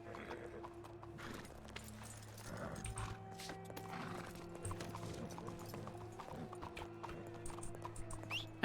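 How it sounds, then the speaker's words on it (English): Horse hooves clip-clopping at a steady walking pace in a Wild West roleplay game, fairly close and continuous, with a brief whinny and faint background sounds but no talk. "I recognized her horse before I saw her."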